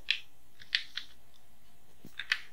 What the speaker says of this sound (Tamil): பேங்க் நேம் டைப் பண்ணுறோம்.